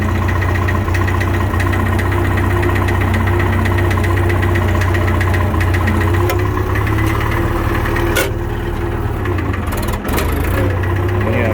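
Farmall 544 tractor engine runs steadily through a shuttle shift into reverse, a loud, close, continuous diesel drone with knocking throb and faint clunks of the gear change.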